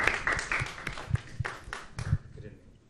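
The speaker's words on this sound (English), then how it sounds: "And a big round of applause to both the panelists." Light, scattered clapping from a small audience honoring panelists at a National Youth Day 2023 event at All India Radio, a handful of distinct claps over a few seconds with talk underneath.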